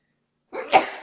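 A single short sneeze, close and fairly loud, bursting out after a moment of silence.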